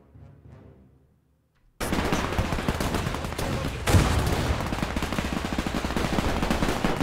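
Dense, loud gunfire from a Men of War II World War II battle suddenly bursts in after a near-quiet opening and continues as a steady barrage of overlapping shots, with a heavier blast near the middle.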